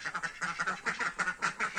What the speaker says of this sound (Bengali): আজ হাঁস মুরগি সব ঢুকে গেছে